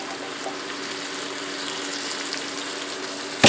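A 15.5-ounce can of Great Northern beans tipped into a pot juice and all, giving a steady wet pouring gush that ends in a sudden louder slosh, with no talking.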